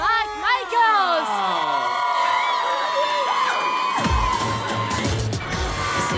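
A studio audience at a French salon makeover show cheers and applauds loudly after an announcer's introduction, with whoops and clapping swelling over music.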